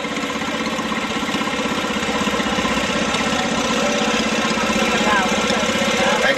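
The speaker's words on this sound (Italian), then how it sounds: "per arrivare finalmente il trattore." An old farm tractor engine runs steadily throughout, a loud continuous mechanical rumble with rapid knocking pulses, approaching on a country road.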